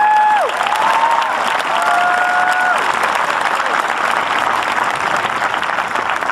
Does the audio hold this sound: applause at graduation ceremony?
yes